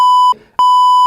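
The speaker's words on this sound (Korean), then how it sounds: "삐삐 처리를 하도록 하겠습니다." A loud, steady censorship beep tone covering speech, sounding in two long blocks separated by a short gap where faint muffled talk slips through, in a Korean talk-show setting.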